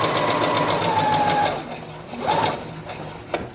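Sewing machine stitching a straight seam on a patch pocket with a flap, a fast close mechanical chatter that runs for about a second and a half, pauses, then gives a short second burst.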